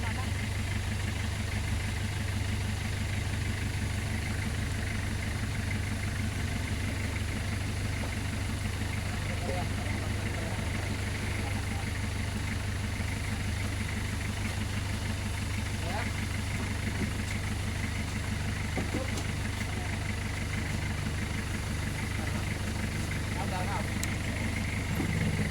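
A motor scooter engine idles nearby with a steady low hum and faint mechanical rattle, holding an even level throughout with no clear voices.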